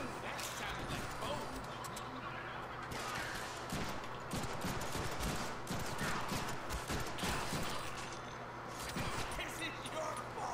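Rapid gunfire from the Deadpool video game crackles in steady bursts under a busy game mix, loud and continuous, while a voice talks over it.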